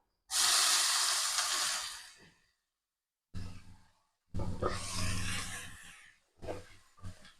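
Onions go into hot oil for a mutton curry with a loud hissing sizzle that fades over about two seconds, then returns in several shorter bursts separated by brief quiet gaps.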